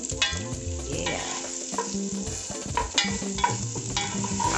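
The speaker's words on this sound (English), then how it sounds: "we're going to brown off our onions and mushrooms, a little bit of pepper" Onions and mushrooms browning in a hot pan with pepper, a steady close sizzle broken by the scrape and clatter of stirring, with background music and no talk.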